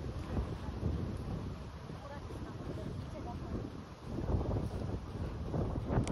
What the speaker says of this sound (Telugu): గాలి అయితే ఫుల్గా ఉంది,